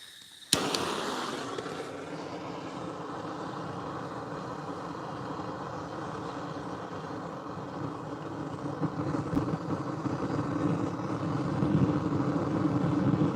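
A torch lighting a firepit catches with a sudden burst, then settles into a steady, close, broad roar that holds for several seconds and swells slightly toward the end.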